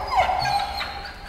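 Dog whimpering and whining inside an abandoned hospital, a short high plaintive cry that rises then trails off, close and moderately loud over a low background hum.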